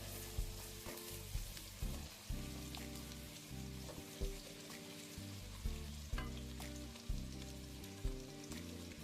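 Onions frying in oil for a puffed rice seasoning, a steady crackling sizzle with periodic scrapes and knocks of stirring, under a low background hum.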